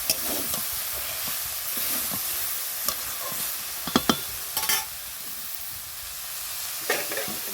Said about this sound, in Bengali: দিয়ে সব কটা সবজি একসাথে নেড়ে নেড়ে আস্তে আস্তে জাল দিয়ে